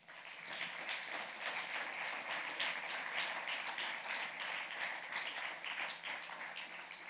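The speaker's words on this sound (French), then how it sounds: "Donc je vous propose qu'on les applaudisse" An audience at an evening event claps steadily in a sustained, fairly distant round of applause that holds an even level throughout, with no voices over it.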